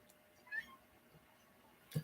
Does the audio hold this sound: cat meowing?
yes